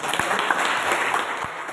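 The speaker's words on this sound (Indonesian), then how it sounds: "Ya, kita tepuk tangan dulu." A class in an Indonesian biology lesson claps together, a brief burst of dense, even applause filling the short moment.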